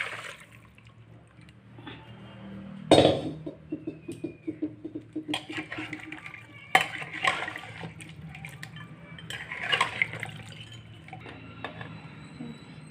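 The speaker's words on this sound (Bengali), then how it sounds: "জলটা গরম হয়ে গেছে, কুকারে দিয়ে দিচ্ছি।" Hot water is poured into a pressure cooker holding mutton, starting with a sudden splash and continuing as an uneven gurgling, trickling stream with small knocks, close by in a quiet kitchen.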